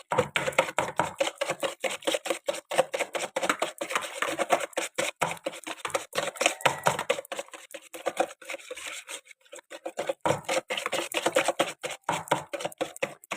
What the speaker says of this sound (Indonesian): Jadi kita kocok-kocok sampai agak mengembang.